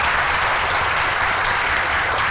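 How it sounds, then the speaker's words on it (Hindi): An audience at a ceremony for UPSC toppers claps loudly and densely, a sustained, close wash of applause that stays even for a couple of seconds without voices. "आप भी एक बार जोर से ताली दो"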